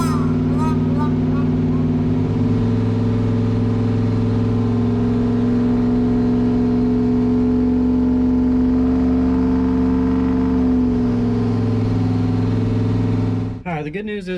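Turbocharged car engine with a Holley Terminator X setup, holding a steady drone at part throttle during fuel tuning. It stays loud and constant with a slight pitch shift near 2 and 11 seconds, then cuts off abruptly with a clatter at the end.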